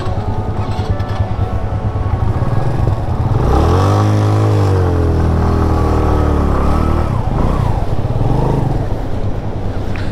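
A motorcycle engine idles and then revs up and down on an off-road track by a stream in the Neelum Valley, Azad Kashmir. It is loud and continuous with rushing background noise.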